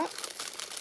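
Crinkling plastic packaging around a 50% linen-cotton garment made in England, a soft, continuous rustle of crackles lasting under a second, fairly quiet and close.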